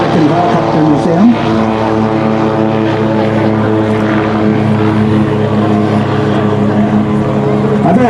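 A Bell 47G helicopter runs at an outdoor rotorfest, its piston engine droning with a steady throbbing rotor beat, loud and close, with someone talking over it.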